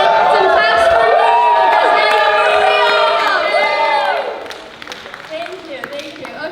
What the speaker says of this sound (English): some claps for me